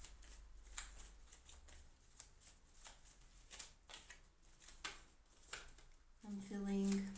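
Tarot cards are shuffled by hand at close range in a series of soft, papery riffles and flicks, with a voice speaking near the end.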